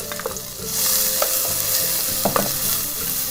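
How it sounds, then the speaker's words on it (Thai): Chopped onion and tomato stir-fried in a little vegetable oil for nam prik with minced pork: a steady, close frying sizzle with occasional soft spatula stirs, no voices. "เราผัดหอมใหญ่เขาให้สุกก่อนนะคะกับมะเขือเทศค่ะ"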